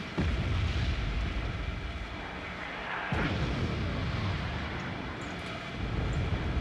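Buratino rocket artillery explosions in the Wargame Red Dragon video game come as a dense rumbling barrage, with heavy booms at the start and again midway over a continuous roar, with no talking.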